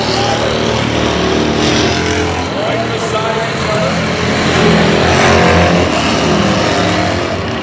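Street stock race cars roar around the Oyster Bed Speedway oval during a long green flag run, engines loud and continuous with rising and falling revs as the pack passes, under an excited race commentator's voice.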